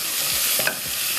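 Rice being mixed in a pan with chicken, tomato, onion and mushroom, a short close burst of frying hiss with a couple of soft spoon scrapes and a light clink, no voices.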